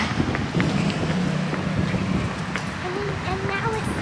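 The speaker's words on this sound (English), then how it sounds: "Grabe, sobrang hangin, no? It's windy, Sia." Strong wind buffets the microphone in a steady rushing roar outdoors in the UK, with people talking faintly underneath while waiting for a gate to open.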